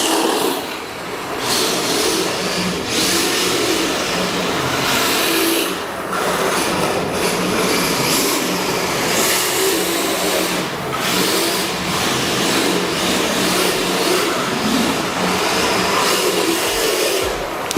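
The LP-86, a lightweight radio-controlled drift car, buzzes around an indoor K-stadium track with a whining electric motor that rises and falls in repeated bursts of throttle, steady and fairly close throughout.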